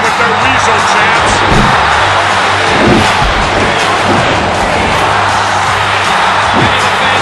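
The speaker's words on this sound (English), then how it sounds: "You can hear the crowd getting on Bobby the Brain with their weasel chants." A loud wrestling video game crowd roars and chants throughout at Bobby the Brain, with a dense, sustained wall of voices and occasional swelling shouts.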